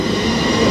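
Fundy Gypsum freight train in the background, a brief loud, steady rumble of rolling railcars.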